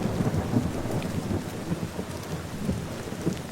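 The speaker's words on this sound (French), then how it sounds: "L'orage a éclaté d'un coup, rapide et violent. Des trompes d'eau et de la grêle se sont déversées sur moi" A violent thunderstorm in the Lapland wilderness, with rumbling thunder over heavy rain and hail pounding steadily in a forest clearing, loud and continuous with no voices.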